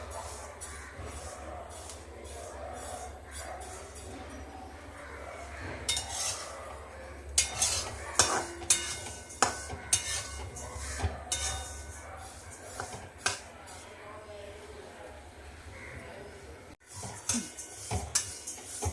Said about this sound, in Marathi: गॅस थोडा बारीक करू आणि छान आवाज येईपर्यंत तिळाचं भाजून घेणार आहोत